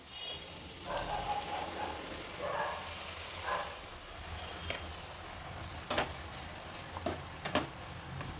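Ground masala hits hot oil with softened onion and fenugreek leaves, giving a low steady sizzle with a few sharp spoon clicks and scrapes toward the end.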